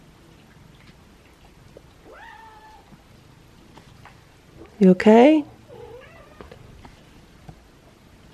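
Feral cats under a day sofa trade meows: a faint meow early on, then a loud, drawn-out wavering meow near the middle. A brief spoken question comes before it, with soft patter in the background.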